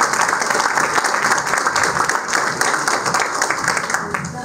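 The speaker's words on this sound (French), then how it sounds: "on peut les applaudir encore parce que c'est un travail énorme de pratiquer tout ça" An audience applauds volunteer performers at a community event, dense sustained clapping that stays loud and steady from start to finish.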